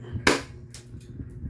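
A single sharp, loud shot from a C2A airsoft pistol during a chronograph velocity test, a crisp crack standing out against a quiet indoor background.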